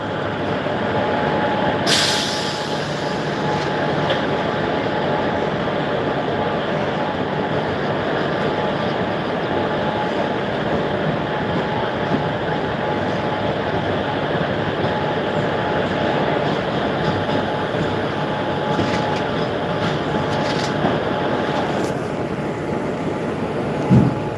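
Inside a moving train, a steady broadband rumble and rattle of the carriage runs continuously at an even level, with a brief sharp hiss or squeal near the start and another toward the end.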